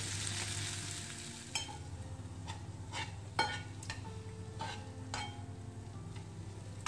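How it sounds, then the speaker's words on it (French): Cubes of parboiled potato frying with onions in a pan, a steady close sizzle with occasional scrapes and clinks of a utensil stirring against the pan. "ودكا نقليها داخل هذا البصل باش تاخذ لي الذوق ديال البصل"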